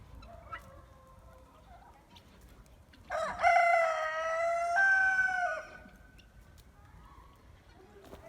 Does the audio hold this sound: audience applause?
no